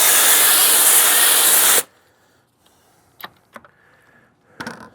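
A foam sprayer applies alkaline cleaner onto car wheels in a loud, close, steady hiss lasting about two seconds, then it cuts off abruptly and a few faint clicks and knocks follow in near silence.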